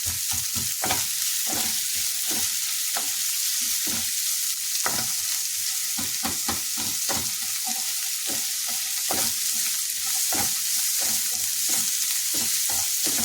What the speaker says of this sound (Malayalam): ചട്ടിയിലോട്ട് നമ്മൾ സവാള ഇട്ട് കൊടുക്കുക